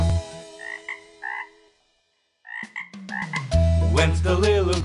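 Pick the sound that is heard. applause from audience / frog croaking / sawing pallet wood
frog croaking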